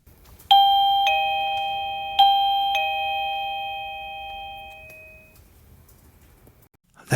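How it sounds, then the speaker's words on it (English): Automatic shop doorbell chiming as the front door opens: four clear, ringing electronic tones in two pairs, each pair a higher then lower note, decaying slowly into quiet. "That's the automatic doorbell that goes off when someone opens the front door"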